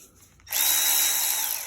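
A Milwaukee 12-volt cordless power ratchet spins up abruptly after a quiet moment, a close, steady high-pitched motor whine that holds for about a second.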